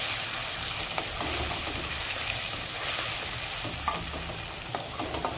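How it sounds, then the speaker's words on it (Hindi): Two finely chopped tomatoes cook in a pan for a radish bhujia, giving a steady close sizzle with occasional spoon scrapes and stirring clicks throughout. "एक मिनट के लिए टमाटर को पकाएंगे ताकि ये सॉफ्ट हो जाए।"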